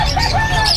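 Caged lovebirds at a busy pet market give quick, high chirps and tweets up close, with several calls overlapping in a short burst.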